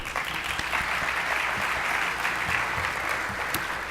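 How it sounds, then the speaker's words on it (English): Audience applause at an Ohio State agriculture celebration, a sustained, even burst of many hands clapping in a large room, moderately loud and heard alone. "That deserves applause as well."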